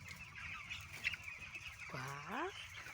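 Poultry calling in a farm shed, with small peeping and clucking calls and one longer goose-like honking call rising over a steady low background hum, fairly faint and near.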